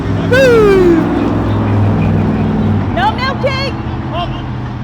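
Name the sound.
cars passing on main road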